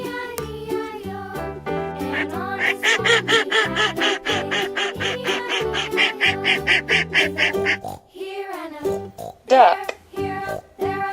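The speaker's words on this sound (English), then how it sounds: "Yellow duck." A yellow duck quacks in a quick rhythmic series of loud, close calls over background music, then a few scattered quacks follow after a brief pause.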